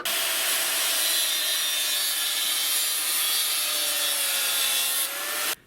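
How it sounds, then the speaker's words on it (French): A small piece of scrap metal is cut in a metalworking shop with a steady, harsh, continuous rasping cut, close and loud for several seconds before it stops abruptly. "Je vais couper un petit morceau de ferraille."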